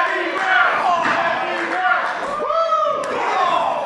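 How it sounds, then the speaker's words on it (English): At an EWF wrestling show, the arena crowd roars a rhythmic chant of a wrestler's name. The loud, close shouting swells and repeats while a commentator talks over it. "And a huge Andy Brown chant"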